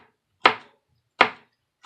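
Two crisp knife strokes chop shrimp-cocktail ingredients on a cutting board, each a sharp close-up thunk with a short decay, spaced under a second apart in a quiet kitchen.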